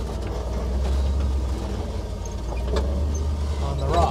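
Vintage flat fender Jeep with EFI crawling over rocks on a Colorado trail, a low steady engine rumble with occasional knocks and creaks close by.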